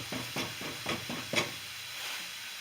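A spoon scrapes and stirs Idahoan instant mashed potatoes in a hot pan, making five or six soft rhythmic scuffing strokes over a faint sizzle before the stirring trails off into quiet hiss.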